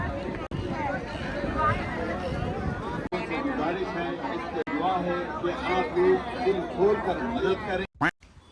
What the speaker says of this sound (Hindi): देखो माशाल्लाह भीड़ बहुत है